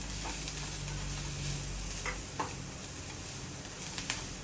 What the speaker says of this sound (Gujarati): ધાણા જીરું પાવડર 1 ટીસ્પૂન, આમચૂર પાવડર 1 ટીસ્પૂન. ફરી હલાવો.